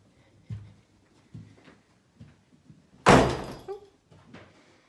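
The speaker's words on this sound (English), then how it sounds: "Ooh. The door." A door on a building tour swings shut with one loud thud, the main event, followed by a short rattle and faint room noise; quiet footsteps come before it.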